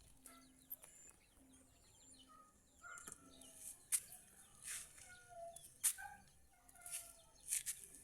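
Chickens clucking in a residential yard: quiet, scattered clucks and short squawks, several sharp calls rising above a soft background, fairly distant and faint.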